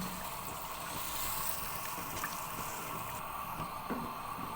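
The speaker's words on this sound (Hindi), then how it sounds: "यहाँ पे पानी को उबाल आ चुका है" Water coming to a boil in a pot for vegetable pulao, a steady, even bubbling and hiss that fills the whole stretch at a moderate level, with no voices.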